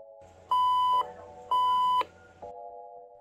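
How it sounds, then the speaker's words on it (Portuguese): Two long electronic beeps from an Intelbras XPE 1001/1013 Plus ID intercom confirming a call, evenly spaced, sound clearly over a low steady tone, followed by a quieter continuous tone. "atenderá automaticamente e confirmará que abriu chamada através de dois bips"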